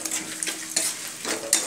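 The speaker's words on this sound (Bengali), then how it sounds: "একটু নাড়াচাড়া করে নেব" Whole garam masala and bay leaves frying in mustard oil, stirred in a pan: a steady close sizzle with a few scraping stir strokes, no talk.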